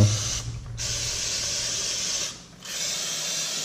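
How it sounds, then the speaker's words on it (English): Aerosol can of carburetor cleaner sprayed onto caked brake dust on rear drum brake parts, a loud steady hiss in two long bursts with brief pauses between, close by and with no talking. "this is carb cleaner"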